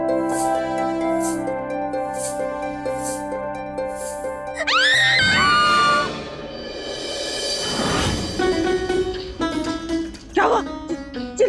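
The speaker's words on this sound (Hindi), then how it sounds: "चिल्ला क्यों रही है?" A woman screaming at night in a kitchen in a TV drama, a sustained shrill cry rising over background music, followed by speech and dramatic musical stings.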